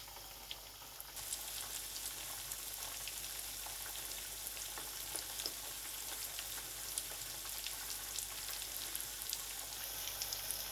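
Two whole fish frying in a pan give a steady, close sizzle with fine crackling pops scattered throughout, getting slightly louder after the first second, with no voices.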